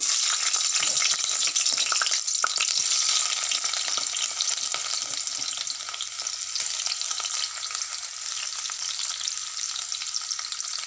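Onions sizzling and frying steadily in mustard oil for a pigeon curry, a bright continuous hiss with occasional stirring scrapes, close and fairly loud throughout.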